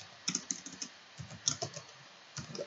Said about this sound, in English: I type npx